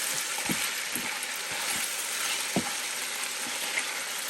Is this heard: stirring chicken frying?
yes